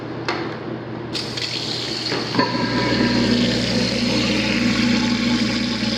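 Water runs from a tap into a sink in a 1960s house interior, starting with a few gurgles and then settling into a loud, steady gush that continues to the end.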